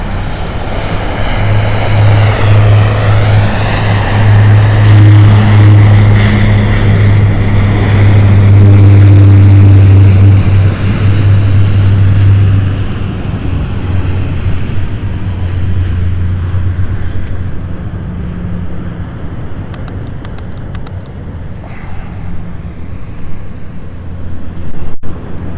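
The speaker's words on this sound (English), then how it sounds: "There is the de Havilland Dash 8 taking off right now." A de Havilland Dash 8 turboprop taking off at London City Airport, its engines roaring loud and close with a strong droning propeller hum that builds, then slowly fades into the distance as it climbs away.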